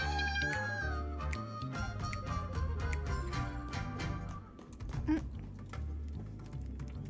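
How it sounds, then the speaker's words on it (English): A cat meows repeatedly near the microphone amid soft computer keyboard clatter as it walks over the keys, with game music and sound effects playing in the background. "Cat walking over my keyboard."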